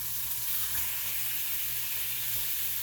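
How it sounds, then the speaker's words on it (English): Butter melting in a pan while cooking smoked bacon for eggs Benedict, giving off a steady, close, even sizzle and hiss with no talk over it. "Butter's almost melted."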